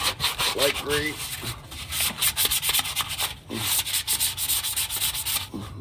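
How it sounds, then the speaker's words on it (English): Light-grit sandpaper rubbed by hand around a muffler pipe, giving a steady, close scratchy rasp in quick repeated back-and-forth strokes with no talking. "Now I'm gonna go around with, this is just any sandpaper, really."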